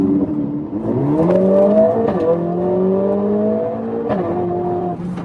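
A Mercedes-AMG A45 S engine revs up and down through gear changes, its pitch sweeping up, dipping and climbing again with sharp blips as it rev-matches on downshifts, loud and close from inside the car.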